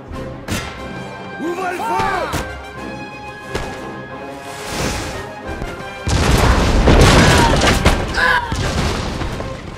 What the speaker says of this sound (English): Keep up the pressure by firing your cannons at the enemy.